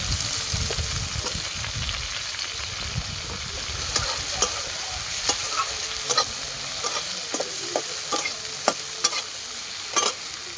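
Potatoes frying in a pan for a snake gourd, potato and prawn curry, a steady close sizzle with scattered small pops and light stirring scrapes throughout.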